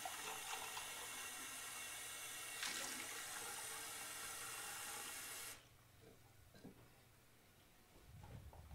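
Water runs steadily from a tap into a sink in a car detailing workspace, a constant broadband hiss that cuts off abruptly partway through, leaving quieter room sounds.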